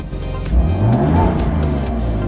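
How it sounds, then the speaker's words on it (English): A BMW F80 M3 with a stock exhaust and Bootmod3 burble settings starts up, a loud rising rev that settles into a deep, rumbling idle. "turn off the car, and then we'll turn it on again"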